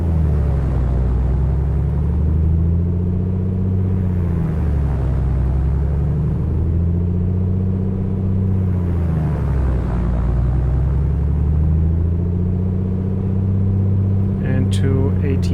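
Piston aircraft engine in Microsoft Flight Simulator 2020 holds a steady run-up drone while the propeller is cycled, its pitch sagging and recovering in slow swells; loud and continuous, with a voice talking over it.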